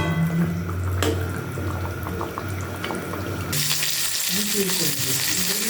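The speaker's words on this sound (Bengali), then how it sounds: "রুটি খাওয়ার জন্য আলু ভাজা বসালাম" Potatoes fry in a pan with a loud, steady sizzle that blends with a rushing, running-water-like hiss, and a brief voice is heard.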